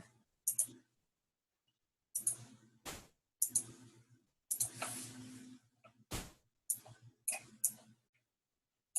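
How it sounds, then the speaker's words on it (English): Someone types on a computer keyboard in short, irregular bursts of sharp, close taps separated by silent pauses. "Let's type it in again."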